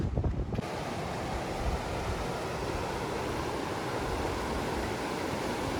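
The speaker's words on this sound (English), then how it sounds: "this river sounds formidable" A rushing mountain river beside a footbridge on the Pacific Crest Trail between Bishop and Mammoth Lakes near Muir Pass, a loud, steady, close roar of whitewater mixed with wind buffeting the microphone.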